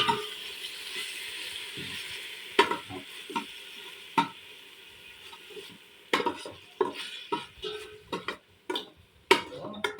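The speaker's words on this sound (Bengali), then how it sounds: "তারপর আদা, রসুন, পেঁয়াজ, তেজপাতা সহ দিলাম, একটু নাড়াচাড়া করে দিব" Ginger, garlic, onion and bay leaf frying in oil for a Bengali beef khichuri, stirred with a utensil: steady close sizzle under repeated scraping clatters against the pot, irregular and sharp.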